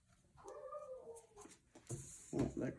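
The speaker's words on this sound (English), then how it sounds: "oh, there goes my dog." A dog whimpers nearby with a rising, wavering whine, then more scuffling and yelping sounds follow in a quiet indoor room.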